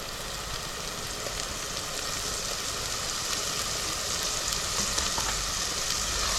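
Tomatoes fry in oil in a clay pot, a steady broadband sizzle and crackle running unbroken throughout at moderate level, with no voices.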